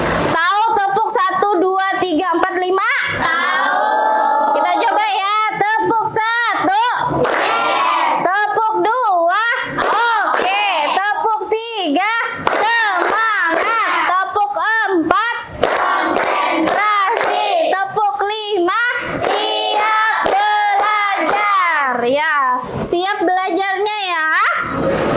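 Classroom of children chanting and clapping along in the tepuk 1 2 3 4 5 clapping game during an ice-breaking activity, voices loud and continuous with rhythmic hand claps throughout.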